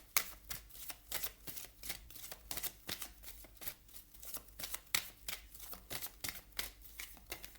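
Oracle cards are shuffled and drawn in a quiet room, a run of crisp riffling flutters and soft slaps coming in uneven bursts, close and alone.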